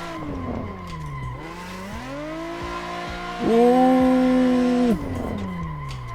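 High-revving go-kart engine at full throttle in Assetto Corsa on a karting track, a steady buzzing whine that climbs in pitch, dips as the kart slows, then surges louder for a moment before easing back.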